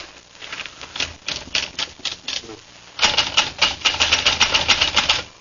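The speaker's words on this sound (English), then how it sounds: "give me a typewriter and I'll go to work" A manual typewriter clatters in irregular bursts of keystrokes, a slower, sparse patch giving way to a dense, rapid run of strikes, close and loud with no voices.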